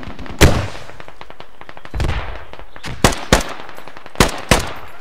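Gunfire in the tactical shooter game Squad: several sharp shots and short bursts, some close and loud, others more distant, spread unevenly across the clip with no talking.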